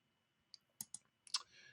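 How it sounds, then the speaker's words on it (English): Several sharp computer mouse clicks sound close and quiet against near silence, spaced irregularly with a faint rustle at the end. "I'm just going to click out of there"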